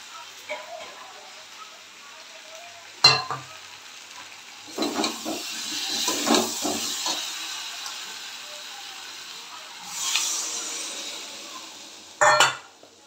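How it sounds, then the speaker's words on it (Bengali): Water hits hot sautéed vegetables in a pan, giving a brief hissing sizzle amid scattered utensil clanks and scraping on the pan, heard close against a quiet background. "ভালো করে কষানো হয়ে গেছে, এবার জল দিয়ে দেবো।"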